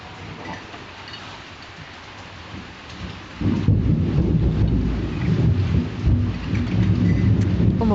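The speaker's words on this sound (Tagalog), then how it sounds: "lakas pa ng ulan" Heavy rain pours with rolling thunder, starting as a moderate wash and swelling abruptly into a loud, dense roar with deep rumbling that continues to the end.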